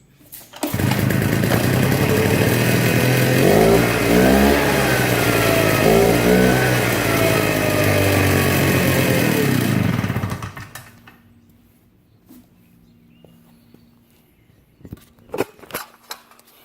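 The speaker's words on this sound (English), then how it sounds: "we are back in action with the backpack blower" Backpack leaf blower engine running at a steady loud drone for about ten seconds with a slight rise in pitch partway, then cutting off abruptly into near silence with a few clicks and handling noises.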